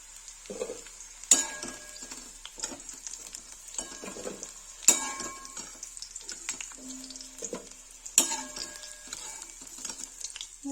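Lotus stem (nadru) frying in hot oil crackles softly in short bursts, punctuated by three sharp metallic clinks of a utensil against the pan at regular intervals.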